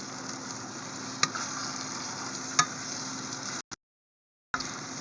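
Bihon noodles being stirred in a sizzling pan, a close, steady frying hiss with a few sharp utensil knocks, cut by a brief gap of silence near the end.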